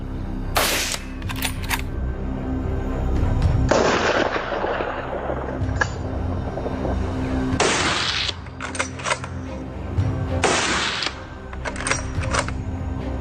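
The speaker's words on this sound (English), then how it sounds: "we aimed and unleashed a deafening volley" A volley of gunfire aimed at fleeing wild boars on a cornfield trail, with several loud, sharp bursts of rapid shots separated by brief gaps, close by and dominating the scene.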